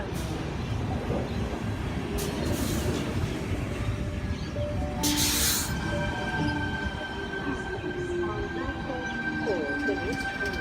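A Sydney train stands at and pulls out of Eastwood station platform on an Epping service, a steady rumble of wheels and motors with whining electric tones and a brief hiss, loud and near.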